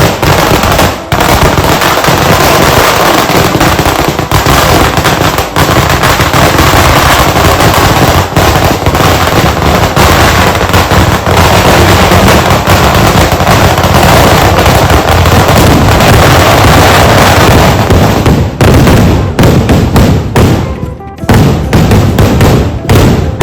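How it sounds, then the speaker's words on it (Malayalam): A heavy fireworks barrage at a Kaliyattam temple festival in Moonniyur, Kerala, roars as one loud, unbroken stream of crackling blasts from close range. A few separate sharp bangs stand out near the end. "ചടങ്ങുകളൊക്കെ കഴിഞ്ഞ ഉടനെ തന്നെ വെടിക്കെട്ട് തുടങ്ങിയിട്ടാ."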